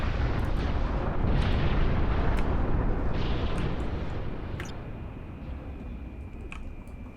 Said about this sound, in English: Underwater explosions are the best thing about Lemuria.